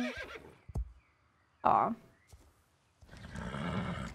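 A magical horse in the online game Star Stable lets out a short whinny amid sparse hoof clicks and game sounds, with someone speaking briefly nearby.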